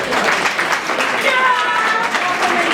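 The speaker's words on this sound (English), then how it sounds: "Can you give me a round of applause?" An audience at a ceremony honoring a chief with a doctorate award breaks into steady applause, a dense wash of many hands clapping that fills the whole moment, with voices mixed faintly in the crowd noise.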